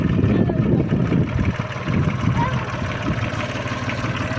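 Small farm tractor engine running with a steady low rumble that is loud at first and then eases slightly, while people talk nearby.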